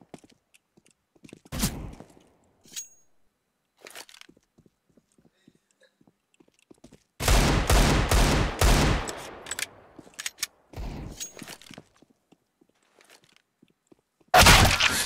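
Counter-Strike (CS:GO) Desert Eagle shots: sharp, isolated gunshot bursts in a rapid cluster of four or five, then scattered single cracks and a final loud shot, separated by near-silent stretches with faint footsteps.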